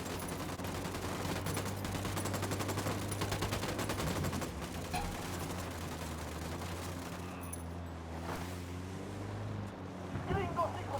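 Sustained automatic gunfire in Ghost Recon Wildlands, a fast rattle of shots running for several seconds over a low hum and wind-like rush, with voices speaking in the mix.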